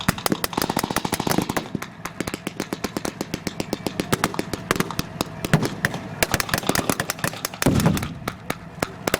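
Dense rapid gunfire crackles almost without pause at a wartime battle reenactment, with heavier booms from artillery fire standing out near the end, all loud and continuous across the field.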